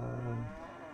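A single short, low cow moo from cattle in the video game Railway Empire, steady and close, fading out after about half a second.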